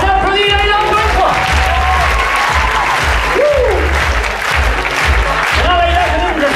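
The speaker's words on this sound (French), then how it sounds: "On applaudit, là, il a encore une fois." An audience at a stage hypnosis show claps loudly and steadily throughout, with a voice talking over the dense applause.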